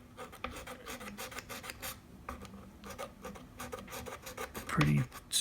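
Light scraping of old fret glue from the fretboard of a 2019 Gibson Les Paul 60's Standard, a soft repeated raspy rubbing in short strokes, close and fairly quiet, with a louder scrape near the end.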